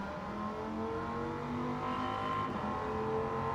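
A race car engine in Gran Turismo 7 holds a loud, sustained high-revving drone with smoothly shifting pitch, continuous and close with no speech over it.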